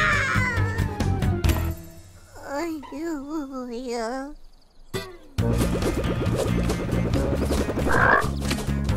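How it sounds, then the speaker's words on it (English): Cartoon frog croaking in a children's animated adventure, wobbling warbly croaks over background music, with voices talking around it. "After that frog!"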